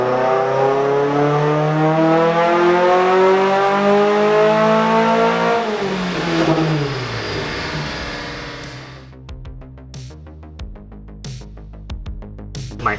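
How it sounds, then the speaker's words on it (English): A nitrous-fed Mazda Miata engine revs hard on a run with a 35 horsepower shot, the loud rising scream climbing for several seconds before dropping off into choppy, uneven idling pops and burbles. "Keep listening to the motor, make sure it's happy."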